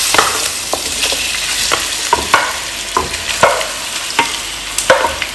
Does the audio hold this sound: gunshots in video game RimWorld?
no